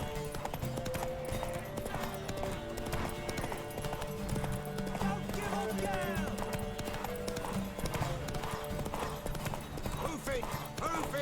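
Horse hooves clip-clop in a quick galloping rhythm in The Witcher 3: Wild Hunt video game, with an occasional whinny, under voices and background sound.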